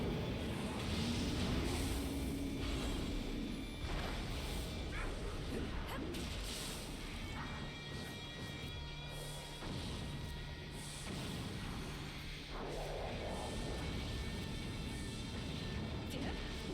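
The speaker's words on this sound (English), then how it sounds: "Let's throw some bombs" Bombs thrown and bursting in the game Nioh 2, a dense, continuous wash of crashes, whooshes and impacts that stays loud throughout, with swishes layered over a rumbling game score.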